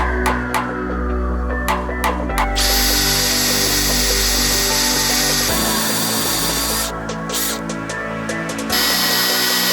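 A power drill whines steadily and loudly while drilling holes in metal, its pitch shifting as it bites in, with brief stops and restarts and a few sharp clicks.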